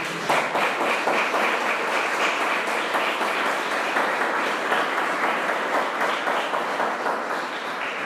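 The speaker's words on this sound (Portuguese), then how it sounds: "Você pode aplaudir o Senhor?" A Portuguese-speaking church congregation applauds together, a thick, even wash of many hands clapping at a brisk shared pace, loud and sustained for several seconds with no voices on top.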